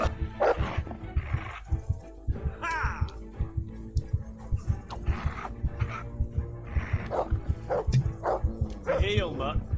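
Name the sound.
dog barking in Kingdom Come Deliverance video game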